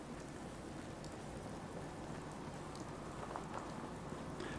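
Steady, dense rainfall in the Fallout 4 wasteland, a continuous even hiss of drops pattering on surfaces with no thunder and no voices.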